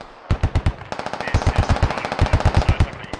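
A technical's mounted machine gun fires in the video game Squad, several loud, close bursts of rapid, evenly spaced shots with brief pauses between them.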